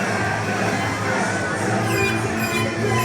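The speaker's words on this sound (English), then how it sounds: "The crowd behind Chip Chambers." Dense wrestling crowd roars and cheers steadily in an indoor arena during an independent wrestling TV championship match, a broad continuous wall of voices with no pauses.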